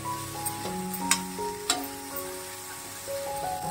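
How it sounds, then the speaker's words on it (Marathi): Chopped ghevda beans sauté in a pan with a soft, steady sizzle broken by a few sharp utensil clinks and stirring scrapes, heard close up with no speech. "परतून घ्यायची ही भाजी"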